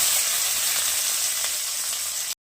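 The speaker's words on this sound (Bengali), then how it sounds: "পেঁয়াজগুলো একটু লাল করে ভেজে" Onions frying in a pan with garlic give a loud, steady, close sizzle with a bright hissing edge. The sizzle carries on without pause, then cuts off abruptly.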